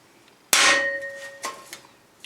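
A single sharp hammer blow strikes a centre punch on a metal bash plate, a bright ringing clang with a lingering tone, followed by a few lighter taps, close up.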